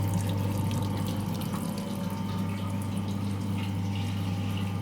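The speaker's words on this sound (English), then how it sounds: "Now we have a water flowing and we have a fixed height of water." Water runs steadily through a pipe friction experiment rig in a lab, draining back to a tank and recirculating; a continuous, loud rushing flow with a steady pump-like hum beneath it, no talk.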